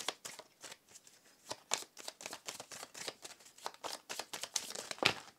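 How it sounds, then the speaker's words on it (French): Tarot cards shuffled fast and nervously by hand, a close run of papery riffles and flicks in quick irregular bursts. "je bats les cartes un peu énervées et du coup, je vais un peu vite."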